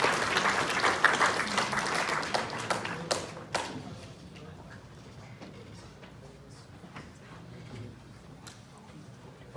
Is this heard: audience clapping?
yes